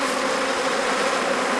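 Honey bees buzz around their hive in a dense, continuous drone, steady and close with no pauses or voices.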